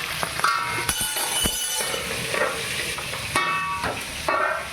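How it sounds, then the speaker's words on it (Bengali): Fish frying in bubbling oil crackles and sizzles loudly up close, with sharp clattering bursts and metallic scrapes breaking into a steady frying hiss. "তেল আছে মাছটার মধ্যে, ফুটতে দেখেন কীরকম"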